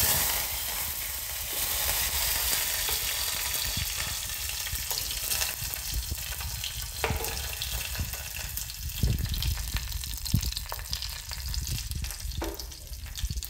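Cumin seeds and curry leaves sizzle steadily in hot oil for amaranth-lentil aamti, a continuous close crackling hiss with occasional stirring clatters and faint tap-water sounds.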